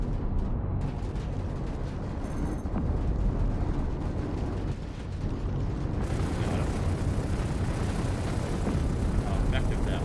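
A Raptor missile launches from a spaceship in the space combat game Star Citizen, a loud, sustained roaring blast and rumble that fills the moment with a sharp shift partway through as the sound texture brightens.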